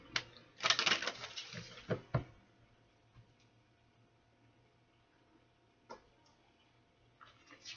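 Cards riffle in a quick crackling burst, then a few faint taps and flicks follow in a quiet room.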